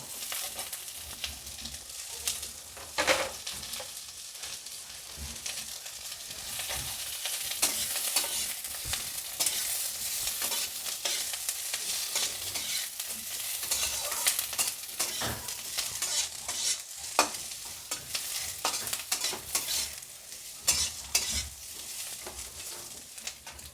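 Capsicum stir-frying in a hot pan for chilli chicken, steady close sizzle broken by repeated scraping stirs, no talking.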